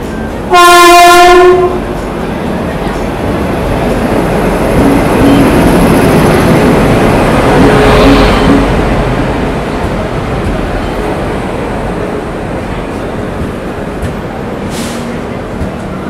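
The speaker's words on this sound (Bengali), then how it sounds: "আমাদের ট্রেন ঢুকছে Sealdah Jalpaiguri road weekly Humsafar express" A Sealdah–Jalpaiguri Road weekly Humsafar Express, an all-AC train on its inaugural run, sounds one loud blast of its horn, then rumbles steadily into the station with rail clatter, and a second short horn comes near the end.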